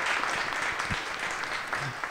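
Audience applause at an organization's annual meeting, a steady wash of clapping sustained throughout at moderate distance with no voices over it.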